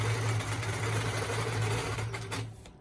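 A sewing machine quilting across a Granny Garden quilt guided by a Handy Quilter Piece Out ruler, its needle running in a fast, even hum for nearly three seconds before slowing and fading out.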